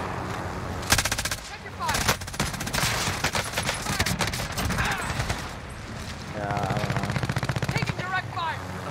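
Rapid machine-gun bursts and gunshots from the Warzone battle-royale shooter, dense and loud, repeating through the whole stretch with brief pauses, mixed with game effects and occasional voice in the background.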